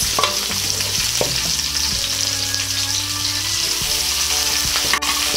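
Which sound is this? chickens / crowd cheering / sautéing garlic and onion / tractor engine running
sautéing garlic and onion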